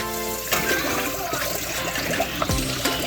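Running water splashes and trickles steadily as a kingfish is rinsed in a kitchen, with a few sharper splashes and a low thump near the end, close by and fairly loud.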